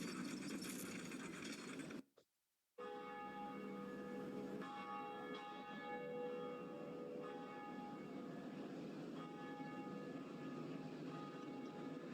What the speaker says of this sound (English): let's go and ring the first bell of awakening